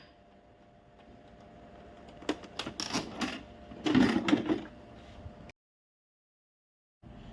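An Epson printer switches on and starts a print head cleaning cycle: a run of clattering mechanical clicks and whirring motor bursts builds for a few seconds, then cuts to silence before a faint restart.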